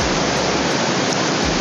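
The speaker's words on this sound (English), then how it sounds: "Just a few meters down from the main waterfall." Main waterfall on Zlatibor Mountain heard from a few meters downstream, a loud, constant broadband roar of falling water that fills the whole moment without a break, and nobody speaks.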